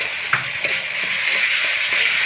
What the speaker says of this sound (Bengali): খুব ভালো করে পেঁয়াজ রসুনটা আমি ভাজতে দেবো যাতে কাঁচা গন্ধটা কেটে যায়।